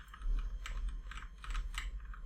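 Gentle, quick keypresses on a Razer Blackwidow Chroma Stealth mechanical keyboard, a close series of soft clicky taps in an uneven rhythm, quiet with no voice.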